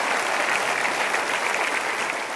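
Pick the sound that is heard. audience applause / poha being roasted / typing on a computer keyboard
audience applause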